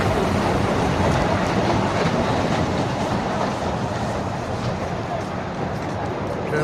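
A small park train runs at the Hatbaria Zamindar Bari park in Narail, a steady loud rumble with a clattering rhythm that continues for the whole stretch, with no talk heard.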